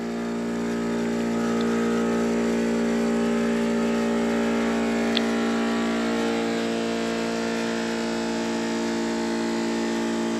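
Aquarobo 919 diving hookah compressor motor running steadily, a loud continuous droning hum with a stable pitch and no pauses, heard close up with no talking.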